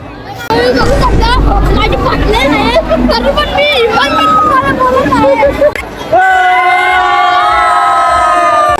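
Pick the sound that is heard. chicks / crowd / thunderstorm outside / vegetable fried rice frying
crowd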